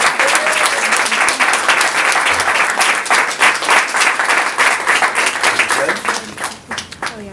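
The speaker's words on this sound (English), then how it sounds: "Let's have another applause for Mimi." A school audience at an autism panel claps loudly and continuously for a speaker, dense applause that thins toward the end, with some voices mixed in.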